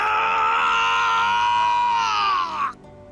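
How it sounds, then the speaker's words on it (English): A man screams in agony in a visual novel game, a loud sustained wail that holds steady for over two seconds before breaking off abruptly, with no other talk. "I flinched from the howling bellow of his screams."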